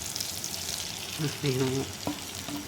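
Ground spices and Kashmiri chilli sautéing in oil in a frying pan for chicken keema, a steady close sizzle with faint stirring scrapes and a few brief tonal clinks.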